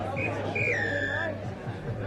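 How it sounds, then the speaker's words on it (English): A referee's whistle sounds for halftime at a rugby sevens club nationals match, a few short piercing blasts then a longer one over the murmur of a crowd and a commentator's voice. "the whistle for halftime"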